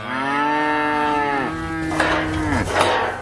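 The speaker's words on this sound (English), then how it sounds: "These are all Hereford cross cattle." Hereford cross cattle on an Arizona ranch moo loudly and close, one long drawn-out low call followed by a second overlapping moo, with rustling in the background.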